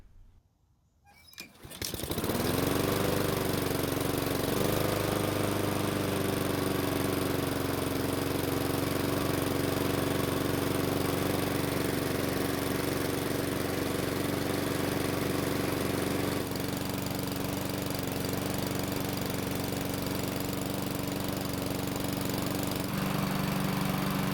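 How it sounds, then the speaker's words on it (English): A Honda-powered Black Max lawn mower engine sputters to life on a third start and then runs steadily at a loud, droning idle, with a slight change in tone partway through and near the end. "I'm going to see if a third start will finally get the engine to stay running."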